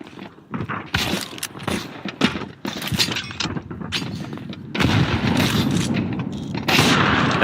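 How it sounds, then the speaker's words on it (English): Grenade blast in Counter-Strike 2 during a pro grand final match, Team Spirit vs MOUZ, a sharp booming burst among rapid gunfire and footsteps, with the chaotic firefight noise swelling louder toward the end. "That nade was actually nasty"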